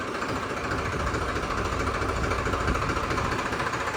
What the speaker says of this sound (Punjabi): ਖੜਿਆ ਹੋਇਆ ਟਰੈਕਟਰ ਬਿਲਕੁਲ